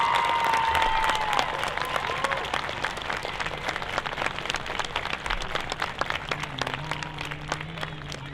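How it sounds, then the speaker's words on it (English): Crowd applause for the Miss Amery 2020 coronation court, steady overlapping clapping from a sizable audience with a few whoops and a tonal squeal near the start, fading slightly toward the end. "Let's give them all a round of applause."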